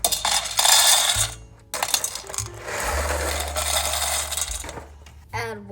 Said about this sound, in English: We add 3 cups of pasta.